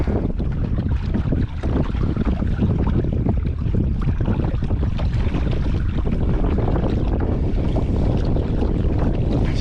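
Strong wind gusts across the open water of Lake Murray in South Carolina, buffeting a small fishing boat; a loud, steady roar of microphone-battering wind with faint lapping water underneath, no voices.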